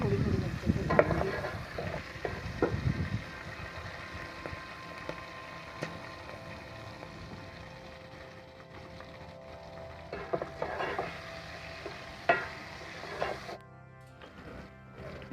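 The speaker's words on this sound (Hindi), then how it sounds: "पहले ये मैं थोड़ी सी मिर्चें डाल के इसको पहले फ्राई करूँगी" Green chilies frying in hot oil, with a steady sizzle and bursts of stirring and spattering near the start and again toward the end, with no talking.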